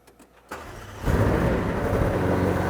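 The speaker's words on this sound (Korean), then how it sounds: "시동을 한번 걸어 보도록 하겠습니다." A McLaren Senna hypercar engine cranks and fires up, jumping into a loud, rough idle that holds steady after the start.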